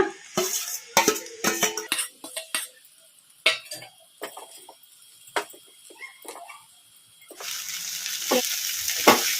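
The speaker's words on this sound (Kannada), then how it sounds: "ಐ ಫ್ಲೇಮಲ್ಲಿ ಇಟ್ಕೊಂಡು ಫ್ರೈ ಮಾಡ್ಕೋಬೇಕು ರೈಸ್" Egg rice being fried and stirred on a high flame at home, restaurant style: a run of loud, sharp clinks and scrapes of a spatula against the pan, then a steady hiss of frying that builds toward the end.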